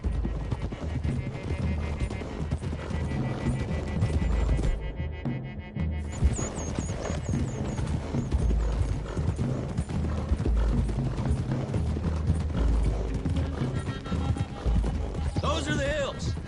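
Horses' hooves clip-clop along a road in the video game Red Dead Redemption 2, a steady trotting rhythm under music and a voice talking.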